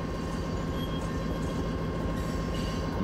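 A mile-and-a-half long coal train of the Lakeland and Black Valley Railroad with EMD switcher units rolls steadily along the rails, a continuous loud low rumble with rhythmic wheel clatter throughout.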